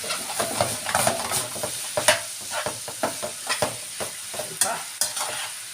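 Dinuguan being stirred in a cooking pot, with a continuous wet sizzle and a series of scraping spoon strokes, close and fairly loud, with no voices.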